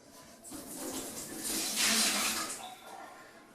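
Water left in a lifted toilet is poured out into a bathtub, a soft splashing gush that swells and fades over a few seconds at a modest distance.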